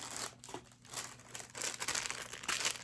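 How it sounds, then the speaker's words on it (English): Crinkling plastic packaging around cross-stitch supplies being unwrapped close by, a continuous irregular rustle with sharper crackles throughout and no voices. "I'm gonna unpackage everything to show you."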